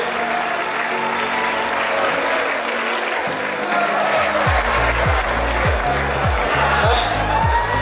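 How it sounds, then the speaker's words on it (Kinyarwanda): Audience applause at a Rwandan film award ceremony, a steady roll of clapping from the crowd, joined by loud rhythmic music partway through. "Amashyi menshi cyane"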